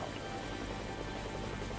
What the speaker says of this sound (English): That sound you hear, that sort of deep, thumping, whop, whop, whop sound, that's the sound of a Huey helicopter.